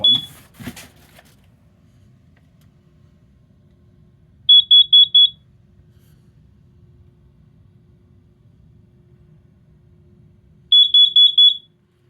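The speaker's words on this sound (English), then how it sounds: "And the last test, we are testing the carbon monoxide." Carbon monoxide detector under test, giving two short bursts of four rapid high-pitched electronic beeps each, loud and close, separated by several seconds of near silence.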